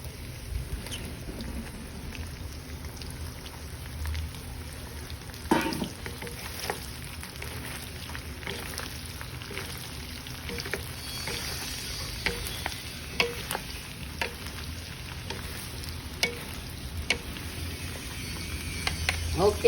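Eggplant frying in a pan with already-cooked bacon for ginisang talong, a steady low sizzle with occasional stirring scrapes and clicks throughout, no talking.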